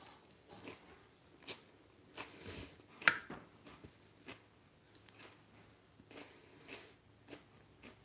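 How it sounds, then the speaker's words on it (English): Someone chews a crunchy raw vegan salad close to the microphone, a quiet irregular series of crisp bites and crunches spaced about half a second to a second apart, with one sharper crackle in the middle. "Can you hear my crunchy salad?"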